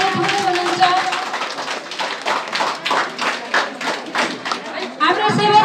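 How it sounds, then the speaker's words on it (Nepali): Audience applause welcoming guests at a formal gathering, a sustained wash of many hands clapping that swells and continues loudly for several seconds, with a voice over a microphone speaking briefly at the start and end. "यहाँहरू सम्पूर्णलाई जोरदार तालीले स्वागत सम्मान गरिदिनु हुन हार्दिक अनुरोध गर्दछु"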